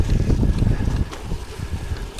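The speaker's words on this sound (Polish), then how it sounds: "Dzisiaj zapowiada się spory wiatr." Strong wind buffets the microphone outdoors during a bike ride along new cycling routes by the Vistula in Kuyavia, a steady loud rumbling roar with gusty low-frequency bursts and no talk.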